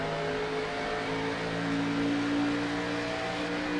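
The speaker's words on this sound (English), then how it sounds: "Both drag racing down side by side into turn 3." Race car engines in the iRacing sim at Phoenix drone steadily as two cars run side by side into a turn, a continuous layered engine hum with a faint rising whine and no talk.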